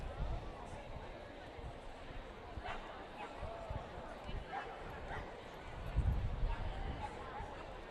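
Dachshunds at the Fort Erie wiener dog championship racetrack yapping and whimpering faintly amid a busy, murmuring crowd, with an announcer-like voice talking over the distant barks.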